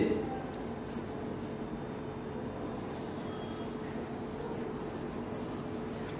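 Faint, steady scratching of writing on a classroom board goes on for several seconds beneath a low background hum.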